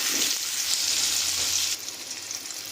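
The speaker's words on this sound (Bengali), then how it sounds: "এই তেলেতেই আমরা আলুগুলোকেও ভাজা করে নিচ্ছি।" Potatoes frying in hot oil in a pan give a dense, steady crackling sizzle close by, which eases to a slightly softer fizz partway through.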